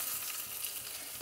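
A tempering of curry leaves and asafoetida sizzles in hot oil for peanut chutney, giving a soft, steady, faint hiss throughout.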